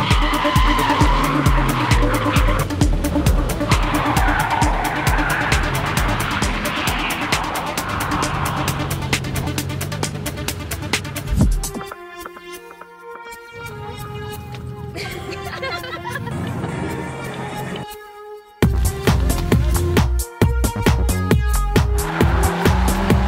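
Car drifting in a demonstration by a professional driver, with tires skidding and squealing continuously over a loud, revving engine, fading briefly mid-run before surging back, heard close.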